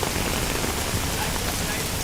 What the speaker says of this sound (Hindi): पानी के आवेग को देखिए, अंदाजा लगाइए कि किस गति से ये पानी बह रहा है